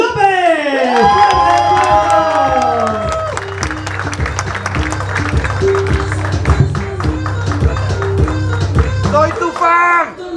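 A live show audience cheers, whoops and applauds to welcome a performer onto the stage, the crowd noise blending with loud, beat-driven entrance music throughout.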